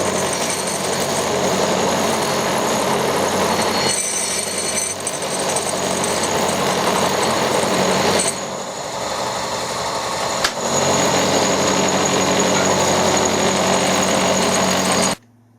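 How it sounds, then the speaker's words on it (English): A carbide cutter milling a turbocharger housing for an SNNC 250 gives a loud, continuous high-pitched machining whine with steady tonal bands. It dips briefly around the middle and stops abruptly at the end, with no voices. "That carbide cutter's taken it off quite nicely, and it hasn't damaged the cutter at all"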